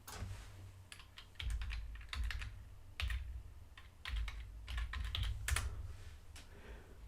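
Steady typing on a computer keyboard, close and fairly loud, with quick bursts of keystrokes separated by brief pauses and a low background hum underneath; no voices.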